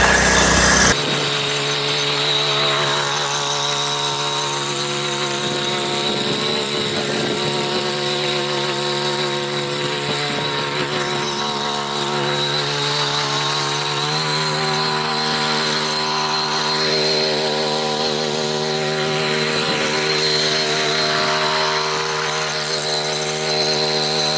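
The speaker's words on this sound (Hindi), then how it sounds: "पूरी काली मिट्टी कटे हुए गेहूं के खेत में कितने अच्छे से एक ही बार में जोतता चला जा रहा है।" An R1011 Bull mini tractor with a rotavator tills a harvested wheat field of black soil, giving off a steady, loud engine drone with a whining mechanical hum that runs on without a break.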